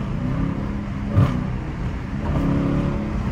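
A Dodge Challenger R/T V8 engine revs up sharply once with a rumbling exhaust, close and loud, settling back into a steady idle growl before rising again slightly.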